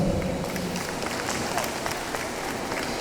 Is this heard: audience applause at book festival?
yes